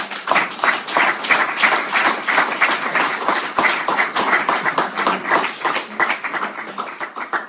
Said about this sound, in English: Let's give the Lord a round of applause.